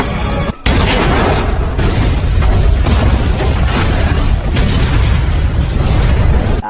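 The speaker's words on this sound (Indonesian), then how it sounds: "meledakkan sebuah bom rakitan" A homemade bomb goes off in a film scene, a loud sustained explosive roar with a sharp burst after a brief dropout, then a dense rumbling blast that fills the whole stretch.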